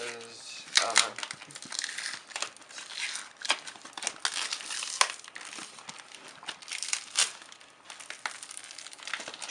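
Flimsy product packaging torn open by hand without scissors, with repeated crinkling, crackling and ripping of plastic in irregular bursts up close, while a person talks over it.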